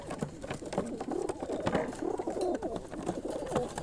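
Pigeons coo repeatedly in soft, rolling calls close by, with some rustling and background noise.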